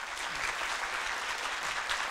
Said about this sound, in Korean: 그리고 커다란 박수 부탁드리겠습니다